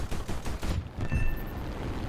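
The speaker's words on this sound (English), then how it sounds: "Let's see how the cannon does just on its own." The heavy cannon of a Ki-45 Ko fighter fires in rapid bursts of booming shots in War Thunder, laid over steady engine drone, with a brief pause between volleys.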